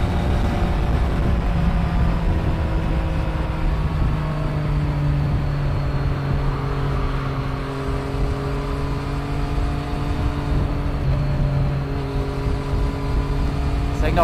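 Motorcycle cruising on a German Autobahn, a steady loud engine drone with broad wind rush, no breaks in the sound throughout.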